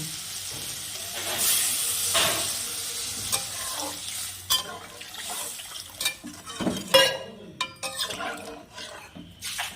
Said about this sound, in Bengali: আমার মশলাটা ভালো করে কষানো হয়ে গেছে, এবার জল দিয়ে দিব।